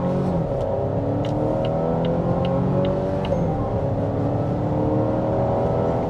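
A Volvo XC60 accelerates hard, its engine note rising steadily in a smooth, loud, continuous drone heard from inside the cabin.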